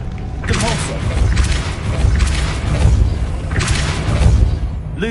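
A Depulso force-push spell cast in the Hogwarts Legacy video game, heard as a series of booming thuds and bursts under game music and ambience, moderately loud.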